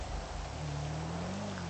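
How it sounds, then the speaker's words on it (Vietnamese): Heavy rain falling in GTA 5, a soft, steady wash of rainfall with a low hum underneath, faint and continuous. "trời mưa quá trời lớn luôn"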